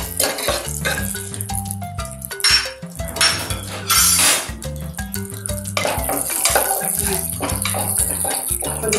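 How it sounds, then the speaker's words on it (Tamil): Busy kitchen clatter of metal pans and utensils, with ghee pouring into a pan and a sizzling, hissing wash building steadily underneath as cashews fry for sweet pongal. "ஃபர்ஸ்ட் ஒரு ஸ்பூன் நெய் ஊத்திக்கிறேன்."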